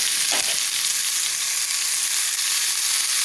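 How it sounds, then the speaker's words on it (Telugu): Curry leaves, tomato, onion and green chillies dropped into hot tempering oil for curd popu, giving a loud, dense, steady crackling sizzle with a brief thud of ingredients landing near the start, close up and with no talking. "కరివేపాకు, కొత్తిమీర యాడ్ చేద్దాం. తర్వాత టొమాటో పీసెస్, తర్వాత ఉల్లిపాయ ముక్కలు, పచ్చిమిరపకాయ ముక్కలు యాడ్ చేద్దాం."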